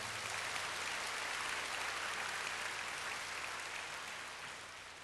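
A church congregation at a summer retreat service applauds warmly, a dense steady clapping that fades slightly toward the end, with no talking over it.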